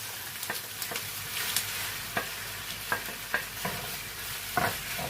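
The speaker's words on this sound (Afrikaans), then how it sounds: "De volgende gaan ek nou my hoenderboortjies insit, dan gaan ons dit nou braai, sodat dit gaar is." Chicken drumsticks fry in a pan with onion and garlic, giving a steady close sizzle broken by irregular clicks and scrapes as the pieces are stirred; no one speaks.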